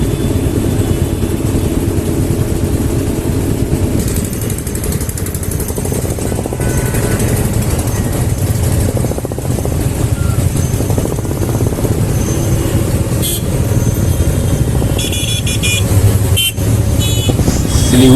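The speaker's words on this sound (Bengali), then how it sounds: "ও ভাই রাস্তায় জ্যাম তো দেখো" A road in Siliguri on the way toward Darjeeling is jammed with cars and motorcycles, giving a loud, continuous rumble of idling and revving engines recorded from a bike, with wind buffeting and occasional horn-like tones.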